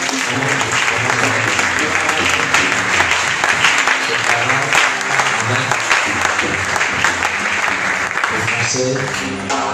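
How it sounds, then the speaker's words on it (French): A church congregation gives a long, loud ovation in honour of a mother, with dense sustained clapping and crowd noise filling the space and voices mixed in throughout. "Je veux qu'en ovation, qu'on acclame Dieu pour maman Odette."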